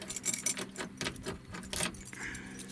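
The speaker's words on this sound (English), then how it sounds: "let's turn the ignition on here" An ignition key jingles and clicks as it turns in a 1971 Ford F100 pickup, with a short burst of metallic key rattling close by and no engine starting.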